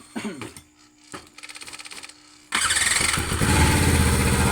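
Jet ski engine being started: a few short cranking bursts and a squealing starter, then the engine catches midway and runs loud and rough up close, revving slightly toward the end.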